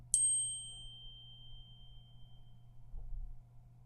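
A phone chimes once with a text message notification: a bright, clean ding near the start that rings out over a couple of seconds, then a quiet room with a low steady hum.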